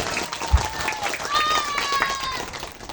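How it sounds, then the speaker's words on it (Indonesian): An audience at an Islamic religious sermon gathering in Tangerang claps in a continuous dense patter, with voices and a speaker's tones carrying over the applause. "Berikan tepuk tangan untuk bangsa kita Indonesia."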